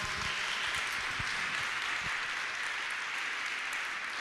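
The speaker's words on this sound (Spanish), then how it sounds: "Démosle un aplauso a Cristo" A church congregation applauds steadily during a worship service, a dense continuous wash of clapping heard from within the audience.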